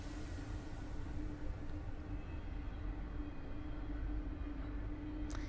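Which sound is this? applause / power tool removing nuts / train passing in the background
train passing in the background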